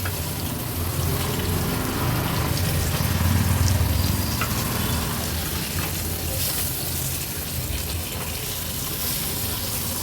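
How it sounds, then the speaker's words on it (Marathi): Pieces of karli fish fry in shallow oil in a pan, a loud, steady, close sizzle with crackling that runs without pause for ten seconds. "एक एक करून सर्व कर्लीच्या तुकड्या तळून झाल्या आहेत।"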